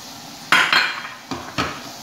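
Raisins and almonds are sautéed in a pan for pulao garnish, with four sharp scraping clatters of a metal spoon against the pan over a faint background.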